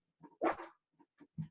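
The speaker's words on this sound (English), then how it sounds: "my dog just started to bark." A dog barks indoors in a short close burst: one loud bark, then three quieter yips spaced across about a second, with no talking.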